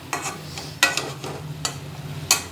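Beans and dried fish with spices being stirred in a hot pan: a few distinct scraping stirs with soft sizzling between them, close and fairly loud, with no voices.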